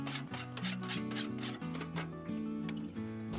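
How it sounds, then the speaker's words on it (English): A metal scraper is dragged across a Blackstone griddle in quick, loud, rhythmic rasping strokes, close up with no voices. "Sorry, scraping's really loud."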